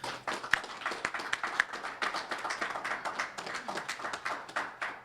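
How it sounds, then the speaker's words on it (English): An audience at a 2014 jobs forum bursts into applause, a dense, sustained patter of many hands clapping fairly close and loud for several seconds, with no speech over it. "I think we need to give them a round of applause"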